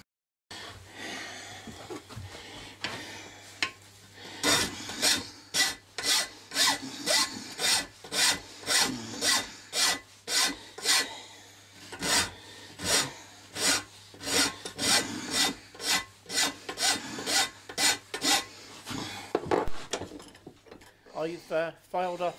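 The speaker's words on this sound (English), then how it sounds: "now I'm just filing the outside of the cock" A hand file rasps across the outside of a cast flintlock cock, removing excess casting metal in a long run of regular, close, loud strokes, with a faint voice at the start.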